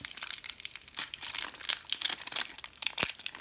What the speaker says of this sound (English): So let's go ahead and pull and unwrap this.